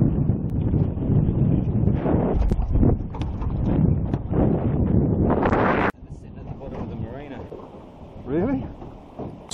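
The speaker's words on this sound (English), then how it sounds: "The wind's just done a 180, gone from easterly basically to southwest" Strong outdoor wind roars and buffets the microphone on a fishing boat off Kangaroo Island, loud and constant for about six seconds, then eases to a softer rush while voices can be heard.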